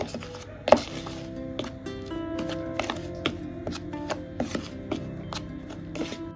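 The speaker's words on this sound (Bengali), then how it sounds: "খুব ভালো করে সমস্ত শুকনো উপকরণকে মিশিয়ে নেব" Dry batter ingredients with turmeric, baking soda and black cumin being mixed for crispy bok flower fritters, irregular close clicks and scrapes of utensil against bowl with one sharp knock early on.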